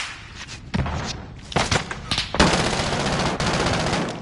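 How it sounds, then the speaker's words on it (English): Video-game gunfire in a military shooter: loud overlapping bursts and sharp single shots, close and dense, building into sustained firing over a few seconds. "Receiving hostile fire."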